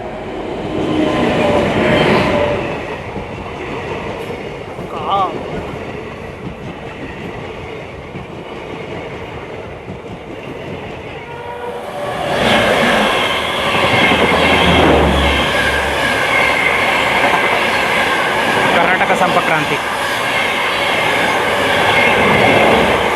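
A South Western Railway Onam special passenger train running from Bengaluru to Palakkad rumbles steadily along the rails with a constant rattling roar, growing louder and fuller about halfway through. No voices are heard.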